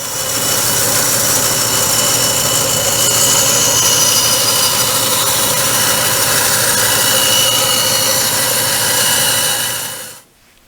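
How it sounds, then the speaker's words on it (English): A bandsaw roughs out a wooden template, giving a loud, steady, unbroken whine and rush of cutting for about ten seconds before cutting off abruptly at the end. "Now, I'm going to screw the template to the wood, rough it out with my bandsaw"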